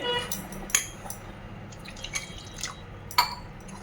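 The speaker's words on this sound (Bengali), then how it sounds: "এখন এটা একটু জল দিয়ে মিশিয়ে নেব ভালো করে" A spoon clinks and scrapes lightly as yogurt is mixed with water in a small bowl, a few faint taps and liquid sounds against quiet background hum, close but soft.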